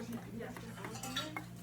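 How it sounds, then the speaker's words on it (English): Spoon stirring melted fat into chocolate cheesecake crust crumbs in a bowl, a soft, steady scraping and clinking close up, continuous for a moment with no talking. "So I'm gonna just stir that in."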